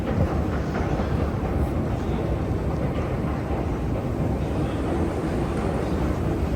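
An underground train in Montreal roars with a steady, dense rumble and rushing noise, loud and unbroken throughout.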